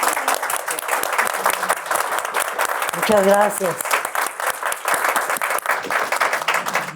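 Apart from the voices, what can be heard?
audience applause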